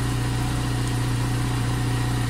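A Benelli 302R fuel-injected motorcycle engine idles steadily, a close, even low hum with a constant pulsing drone and no talking.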